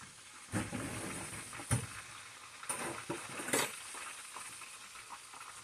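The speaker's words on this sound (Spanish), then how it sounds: "Se están friendo, miren, chicas, los pescados." Fish sizzle and crackle in a pan, a steady frying hiss broken by a few sharp clinks and scrapes of a utensil.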